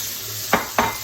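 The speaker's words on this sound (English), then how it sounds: "we're just blistering the tomatoes." Cherry tomatoes, about 300 grams, cooking in a hot pan, with two short clattering stir scrapes over a low, steady sizzle, close and fairly loud.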